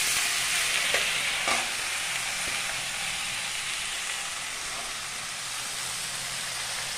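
Boiled broad beans are tipped into hot tempering oil and stirred, producing a continuous hiss and sizzle with a few soft scraping knocks from the stirring early on, close and steady.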